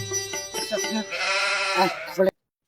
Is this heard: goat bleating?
yes